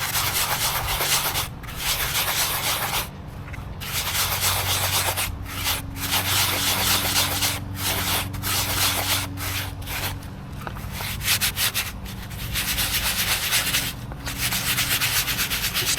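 A gold pan's bottom being sanded to dull and scratch its surface, a steady close rubbing scrape running continuously with brief pauses between strokes.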